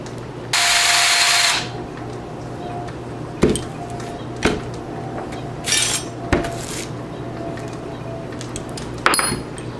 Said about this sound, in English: take a drill bit and just bore out a hole in the top of this piston here